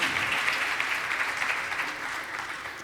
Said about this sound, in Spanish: Dale un aplauso a ese glorioso Espíritu que el Padre nos